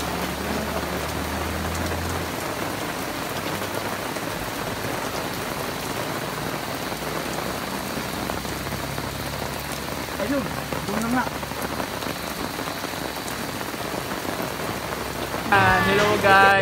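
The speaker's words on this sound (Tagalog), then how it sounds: "At patuloy pa rin ang ulan, kaya ito tayo sa loob ngayon" Steady heavy rain falls outside during a wedding gathering at a farm, heard from indoors as a dense, even hiss that holds throughout, with a brief louder clatter near the end.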